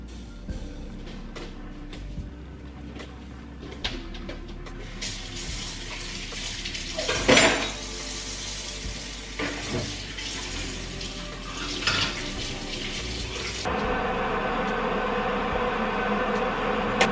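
Water boiling in a pot on a home kitchen stove, a steady rushing, bubbling wash heard close throughout with a few brief clatters, growing slightly louder and brighter near the end.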